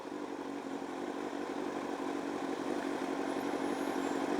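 A motorcycle fitted with loud D&D exhaust pipes rumbles steadily at a moderate distance, holding an even, unbroken engine drone with no voices.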